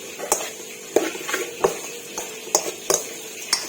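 A spoon stirs food together in a metal cooking pot: scattered clinks and scrapes at an uneven pace, sharp and close, over a faint background hiss, no talking.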